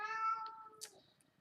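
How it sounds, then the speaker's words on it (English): A house cat meows indoors, one drawn-out tonal meow followed by a short sharper chirp, close and fairly quiet with no talking over it. "Oh, and my cat's in here talking to us all, y'all."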